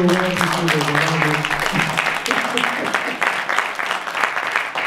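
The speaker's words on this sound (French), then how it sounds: "Est-ce qu'on peut applaudir leur beauté?" Audience applause fills a Black History Month conference hall, steady clapping from many hands with a brief tonal voice or music trace near the start, continuing evenly for several seconds.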